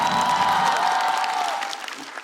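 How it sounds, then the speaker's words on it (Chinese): Audience applause rings out at a stand-up comedy competition show, a dense, loud clapping wash that holds steady under a sustained musical tone, then thins and fades toward the end. "掌声再给嘻哈"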